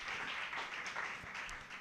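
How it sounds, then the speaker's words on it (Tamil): Faint applause from an audience at a children's ministry training session, honoring a guest mother, with a steady patter of clapping heard from a distance for a short moment. "அம்மாவுக்கு ஒரு பெரிய கைத்தட்டு கொடுத்துடலாம்"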